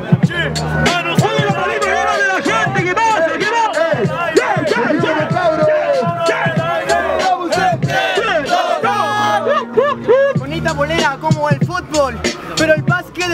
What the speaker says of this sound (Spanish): Un aplauso a los competidores